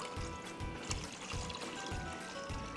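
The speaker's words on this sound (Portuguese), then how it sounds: "Escorremos essa água." Rice-washing water poured off a bowl of rinsed rice grains in a kitchen, a steady close trickle and splash running throughout with no talk.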